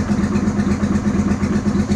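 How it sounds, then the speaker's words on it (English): A 2003 Honda Shadow Spirit 750 motorcycle idles close up, a steady low throb that is mostly smooth but slightly choppy, with an uneven pulse in the beat. "So it's idling, like it's smooth, but it's a little choppy."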